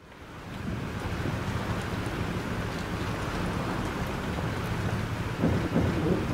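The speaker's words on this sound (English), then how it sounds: "This storm is real." Thunderstorm in the video game Life Is Strange: a steady, loud wash of rain and wind with a low rumbling roar throughout, swelling slightly near the end, with no talking.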